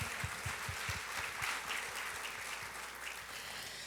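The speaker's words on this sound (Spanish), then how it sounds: "Con un fuerte aplauso." Audience applause at a pastoral seminar in Peru, a dense steady clapping from a sizable crowd at moderate level, with a few louder low thumps early on and no talking over it.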